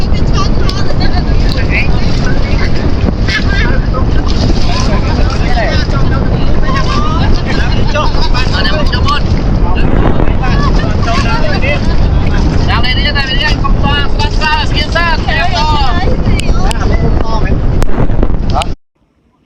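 A boat carries riders across open water, its steady motor drone loud and continuous under strong wind buffeting, with people talking over it the whole way until it cuts off near the end.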